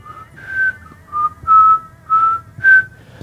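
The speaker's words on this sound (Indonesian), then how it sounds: "tiba-tiba ada suara orang yang bersiul." A person whistles a short tune of six clear notes on Mount Lawu, each held briefly with small pauses between, loud and close.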